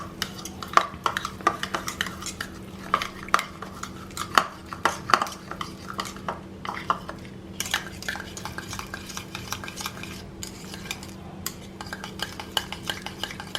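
A thick mixture is beaten by hand in a bowl, the utensil knocking against the sides in quick, irregular clinks and scrapes, fairly close and soft, with no talking.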